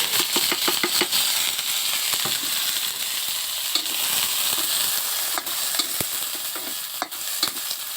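Garlic and eggplant stir-fry in hot oil for golden fried rice, a steady bright sizzle broken by repeated metallic scrapes and taps of a spatula against the pan, close and continuous.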